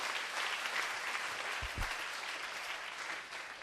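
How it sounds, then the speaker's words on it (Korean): A church congregation applauding in worship, a sustained dense wash of many clapping hands filling the room, with a brief low thump partway through. "다시 한번 박수로 힘차게 영광 드리겠습니다."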